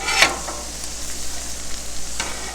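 Burgers and onions frying on a Blackstone griddle, a steady close sizzle with a couple of sharp spatula scrapes as the patties are flipped.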